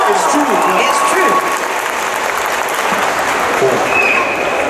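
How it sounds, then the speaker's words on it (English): Audience applause fills a comic con Q&A hall, a dense sustained wash of clapping and crowd noise running steadily throughout without a break. "Can we get a round of applause for that answer right there?"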